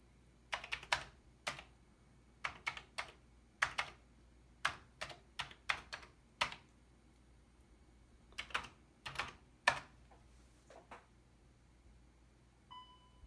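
Typing on a computer keyboard used with terminal software on a Commodore 64 setup, heard as irregular bursts of close, crisp key clicks with short pauses between clusters, no talking.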